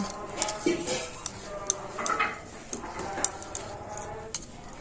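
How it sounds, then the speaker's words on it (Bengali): Metal spatula scraping and tapping against an oiled steel plate while a mixture for a cauliflower dish is smoothed flat, with a run of light, irregular clinks and scrapes at close range. "এবার খুন্তি দিয়ে আমি একটু এভাবে সমান করে দেব"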